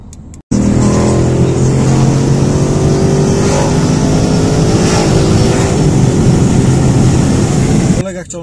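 A Ford Mustang Boss 302 V8 accelerates hard at full throttle after a lane change to overtake a column of traffic, a loud sustained rising engine roar heard from inside the car, easing off at the end.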